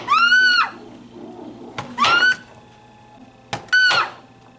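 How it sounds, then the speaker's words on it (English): Makey Makey scream sound effect triggered by cutting a carrot: three loud, shrill electronic screams, each under a second long, separated by short pauses with faint thumps in between. "I'm going to cut the carrot and it's going to scream."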